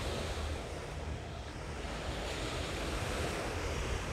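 Sea waves wash steadily against a shore, a loud continuous surf roar mixed with wind buffeting the microphone, with no voices.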